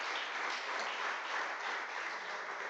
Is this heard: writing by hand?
no